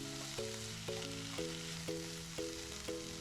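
Onions frying in a pan as part of a kothu parotta with vegetables and chicken, a steady soft sizzle running under louder tonal music with a regular stepping rhythm.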